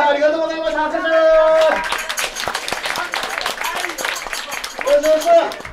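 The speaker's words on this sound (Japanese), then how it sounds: "拍手" Applause from the audience at a kagura shrine festival performance of Akugitsuden at Kawachi Shrine, Yuki-cho, rising as a dense wash of claps while a sustained flute-like tone and people's voices carry over it.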